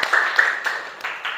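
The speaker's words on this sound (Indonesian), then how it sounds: "Tepuk tangan untuk kita semua." Students in a classroom applaud during an Indonesian Islamic education lesson, a brief burst of many hands clapping in a loose, continuous patter that fades slightly toward the end.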